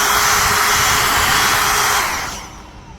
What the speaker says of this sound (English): we're going to run the hairdryer on it now and seal it